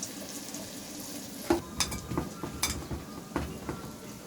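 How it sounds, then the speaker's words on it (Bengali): Masoor dal fritters frying in hot oil, a soft background sizzle broken by a few sharp clinks and scrapes of a spoon against the pan, quiet and close, with no talking. "তেল গরম হয়ে গেছে। এখন ডালের বড়াগুলো এক এক করে ছেড়ে দিচ্ছি।"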